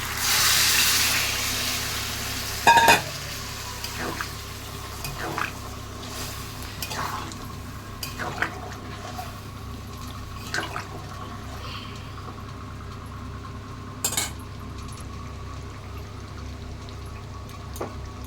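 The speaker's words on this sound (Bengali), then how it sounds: "এর মধ্যে এবার আমি ওই জলটা দিয়ে দিচ্ছি, আলু সেদ্ধর জল।" Potato boiling water poured into a simmering spiced potato curry cooked with goat fat, a brief close splashing pour at the start followed by faint bubbling, occasional clinks and scattered quiet knocks.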